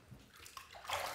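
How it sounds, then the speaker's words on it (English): A safety razor is rinsed in water after a shaving pass, giving a short, close swish and splash that swells louder toward the end, with no talk. "Let's rinse."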